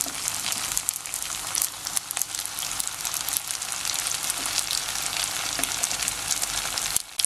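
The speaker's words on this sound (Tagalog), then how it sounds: "Ipa-fry na po natin yung ating mga lumpia." Lumpia (spring rolls with bean sprouts) sizzle steadily in hot cooking oil, a dense, close crackling hiss that runs unbroken, with occasional louder pops.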